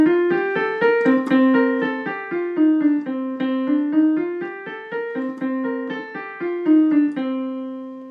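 A shalan melody in the kafi raga is played on a sustained, harmonically rich instrument, moving in smooth stepwise phrases that rise and fall, close and clear with no voices.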